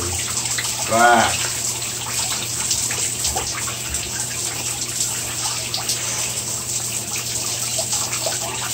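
Shower water running in a steady hiss, close and constant, with a brief voice-like sweep near the start and otherwise no clear talk.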